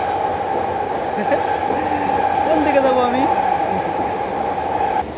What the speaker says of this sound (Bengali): আমার চারপাশে দিয়ে শুধু ট্রেন যাইতেছে